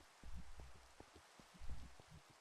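Rain falls in the Minecraft SkyFactory video game, a quiet, steady hiss with scattered soft drop-like patters and small thumps, heard alone.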